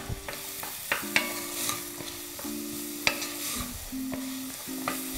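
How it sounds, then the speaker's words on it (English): Vegetables (carrot, celery and onion) being stirred in a pot, a spoon scraping in repeated strokes over a soft sizzle, close and fairly quiet, with no talking. "Give this a stir."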